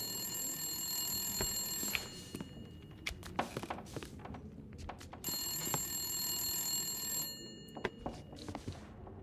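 A telephone rings twice in The Long Dark video game, each long ring followed by a pause, over quiet ambient noise with scattered soft thumps.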